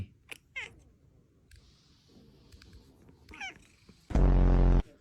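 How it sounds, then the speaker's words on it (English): A house cat meows several times at moderate distance in a quiet room, short rising calls, followed by a sudden loud burst of noise near the end. "You're a cat."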